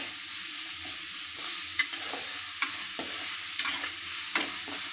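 Tripe frying with ginger and garlic paste and salt is stirred in a pan, giving a continuous close sizzle broken by repeated scraping strokes of the spoon.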